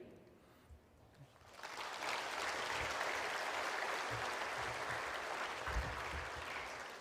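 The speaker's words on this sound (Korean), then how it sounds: "다시 한번 큰 박수 하나님 앞에 영광 올려드리도록 하겠습니다." Applause from a church congregation at a Sunday evening worship service starts about a second and a half in and swells into sustained, dense clapping that fills the room through the rest of the clip.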